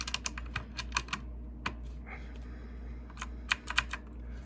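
Clicky typing on an Onn mechanical gaming keyboard fitted with blue switches, with close, crisp keystrokes that come in short bursts and pauses over a quiet hum, and no talking.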